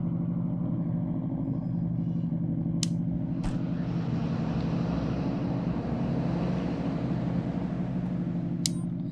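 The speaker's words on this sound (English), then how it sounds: "That's an extremely loud engine as well." In the Police Simulator video game, a very loud vehicle engine idles in a steady low roar close by, with a couple of faint clicks on top.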